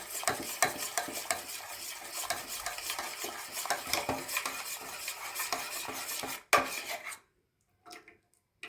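Bubbling sugar syrup for sakkare achchu stirred vigorously in a pan just off the stove, a steady close scraping and bubbling that stops abruptly near the end, followed by a few faint knocks.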